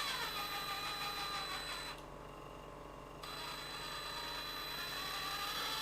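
The small electric motor of an FMS FCX18 Chevy K10 1/18 scale RC crawler drives in reverse. It gives a continuous close, high-pitched whine that dips briefly in the middle and then resumes.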